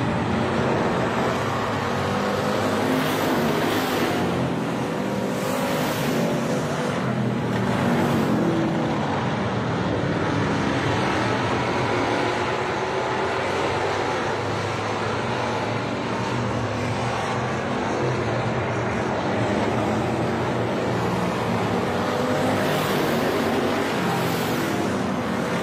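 Race cars roaring around an oval track during a feature race, a continuous dense engine din with several louder surges as cars pass close by, with no voices over it.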